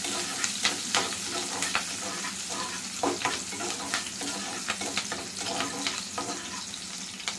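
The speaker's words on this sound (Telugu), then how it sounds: "ఇప్పుడైతే ఉల్లిపాయలు బాగా గోల్డెన్ కలర్ వచ్చేంత వరకు బాగా వేయించుకోవాలి" Sliced onions frying in hot oil for a Sunday mutton curry meal, a loud continuous close sizzle broken by frequent spatula scrapes and stirring taps.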